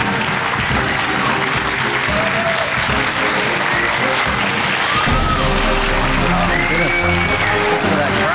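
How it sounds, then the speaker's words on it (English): A live crowd applauding and cheering at a Clash of Clans war challenge event in Helsinki, Finland, a loud continuous wash of clapping that swells midway, with voices talking over it. "Listen to that crowd."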